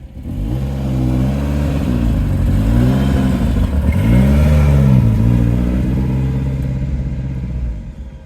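A car engine fires up and revs, its pitch climbing and falling in several close, loud sweeps before settling into a steady idle, with no one talking.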